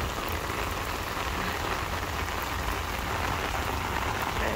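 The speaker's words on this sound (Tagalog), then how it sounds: "Grabe yung ulan, guys." Heavy rain in Hong Kong pours down steadily and loudly, a dense unbroken hiss of drops drumming on surfaces with no voices over it.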